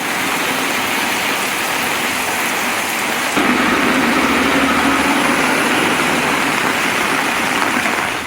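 Heavy rain pours down steadily over the Kovilpatti area during a third straight day of downpour, a loud, dense, continuous hiss filling the whole stretch with no talk.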